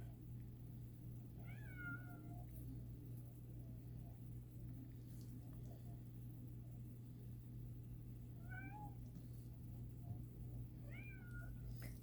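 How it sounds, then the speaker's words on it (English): A cat meowing outside a closed door, faint and muffled, three separate drawn-out meows spaced across a quiet room with a steady low hum. "you can hear the kitty cat outside my door"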